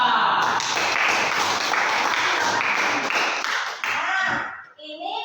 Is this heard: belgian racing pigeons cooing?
no